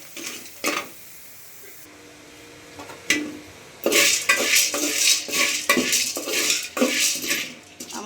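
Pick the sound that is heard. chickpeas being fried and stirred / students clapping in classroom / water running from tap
chickpeas being fried and stirred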